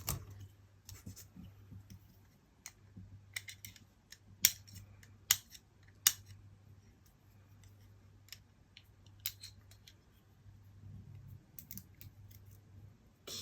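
Scissors snip through layered stencil material in a quiet room, sharp crisp cuts arriving singly and in quick irregular bursts, close to the ear, with a faint low hum running steadily underneath.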